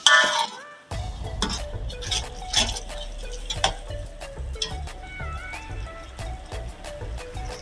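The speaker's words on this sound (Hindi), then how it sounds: "भुनने हमारा मसाला खूब अच्छी तरह भून रहा है।" Masala frying in oil in a pan for beef paya, a soft steady sizzle with clinks and scrapes of stirring throughout, sharp utensil taps recurring over the bed of frying noise, no talking.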